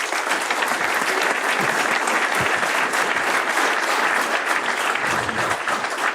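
Sustained applause from a crowd at the Pyramides 2020 property-development awards ceremony as the Cogedim project is named winner, loud and steady throughout with dense, continuous clapping.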